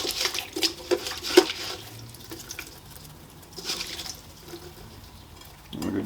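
Generator air filters being swished around in a container of cleaning liquid, giving soft sloshing and splashing water sounds with occasional louder splashes, close and fairly quiet.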